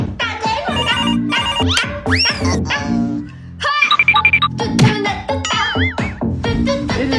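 A mobile phone ringtone plays loudly and close, a busy melodic tune with bright repeating tones and a brief gap partway through.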